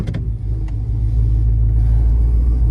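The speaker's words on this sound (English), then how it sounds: "We're gonna go for a drive right now and see how she does." A ZL1500 truck with a 10-speed transmission drives off, its engine giving a loud, close, steady rumble that builds slightly as it accelerates; no distinct gear change stands out.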